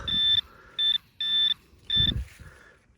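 Four short electronic beeps from a metal detector signalling a coin, steady high tones repeating at uneven intervals, with faint rustling and low thuds between them.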